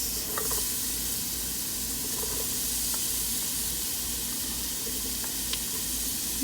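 Chopped onions hitting a dark roux for chicken andouille gumbo, a dense, even hiss of sizzling that holds steady throughout, with faint scrapes and clicks underneath.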